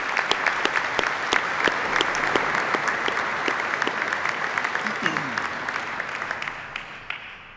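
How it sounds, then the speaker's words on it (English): Sustained applause from a large audience at a university president's investiture ceremony, dense steady clapping that fades slightly toward the end. "Everybody here, just give yourselves a hand of applause for being here and joining us."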